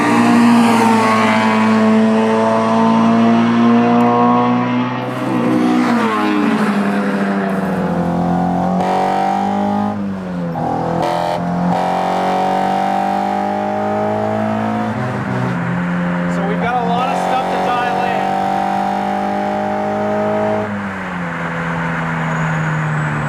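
A street car fitted with individual throttle bodies revs hard toward 10,000 RPM, a loud, harmonic-rich engine note climbing and dropping through repeated sweeps, close and continuous with no talk.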